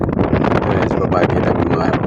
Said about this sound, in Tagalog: Lakas ng hangin dyan.